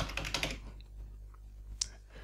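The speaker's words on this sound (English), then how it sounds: "And in this case, I will type my own handle." A few quick clustered keystrokes on a computer keyboard entering a handle, close and soft, followed by a lone sharper click, with no talking.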